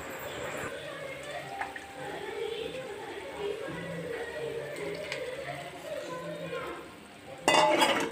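Utensils scrape and clink against a pot of white kurma in a steady stirring rhythm, with a sharper clatter near the end.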